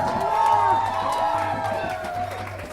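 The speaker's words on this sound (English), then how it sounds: "Give him a great round of applause." Wedding guests applaud and cheer, a steady wash of clapping and crowd noise under a continuous sustained musical tone, with a speaking voice through it.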